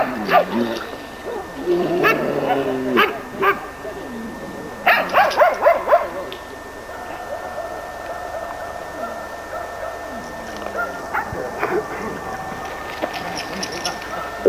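Laika hunting dogs bark at a field trial for bear and boar, with bursts of barking and howling-like calls clustered early on, mid-distance, over outdoor ambience.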